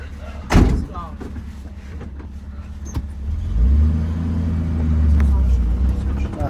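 A car door slams shut once, a sharp close thud near the start, followed by a running engine rumbling steadily under people talking on a sunny day.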